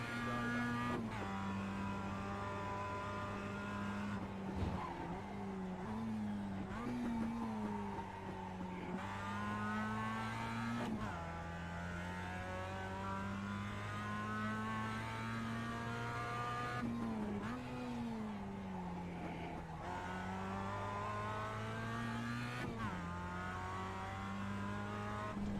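A race car in the iRacing simulator drones through its gears, the engine tone rising steadily under acceleration and then dropping abruptly at each shift, repeating over and over as a continuous, moderately loud whine without any speech.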